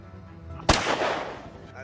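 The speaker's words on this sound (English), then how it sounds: "And there the gun fires to set off the first wave." A starting gun fires at the 2025 Valencia Marathon start: a single sharp crack over a murmuring outdoor crowd, followed by a long echoing roar of cheering.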